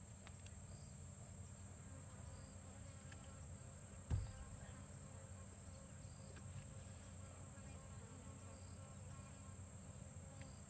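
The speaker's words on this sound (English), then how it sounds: "I hope you can hear the flies that are all buzzing around us." Flies buzz faintly around in a quiet outdoor setting on an evening safari drive, a thin continuous drone with one brief thump partway through.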